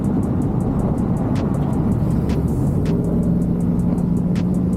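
A truck on the road, closely following and then accelerating hard past, heard as a loud continuous engine and road roar with a rising tone, plus rhythmic faint ticking and a few sharp clicks.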